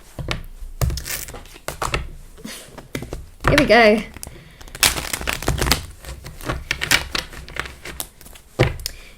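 A deck of tarot cards is shuffled by hand in quick bursts of riffling and papery flicking, broken by pauses while a person talks.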